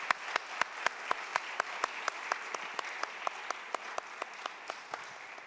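A church congregation claps in slow unison, sharp evenly spaced beats that carry on steadily for several seconds, with no talking over them.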